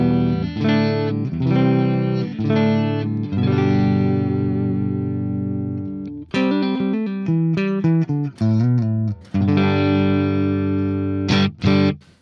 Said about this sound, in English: what that will do is split the neck pickup and gives us a more single coily tone